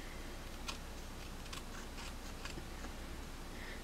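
Scissors trimming the uncovered paper edge of a diamond painting luggage tag, a few soft, brief snips over steady background hiss, close and fairly quiet.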